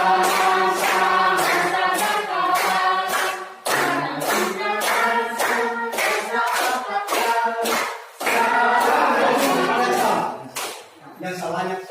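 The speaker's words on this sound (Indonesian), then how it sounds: "Oke, langsung tepuk tangan." A group of schoolchildren claps hands in a steady rhythm, sharp close claps repeating evenly while their voices chant along, with a few short pauses between phrases.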